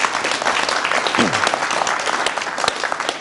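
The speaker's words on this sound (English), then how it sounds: "Please give him a clap." An audience claps loudly and close in a dense burst of applause that runs throughout, with a brief vocal sound rising over it near the middle.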